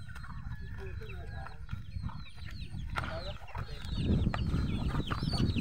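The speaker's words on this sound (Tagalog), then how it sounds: "Daming manok." Chickens clucking and crowing outdoors over a steady rumble of background noise, with faint voices in the mix.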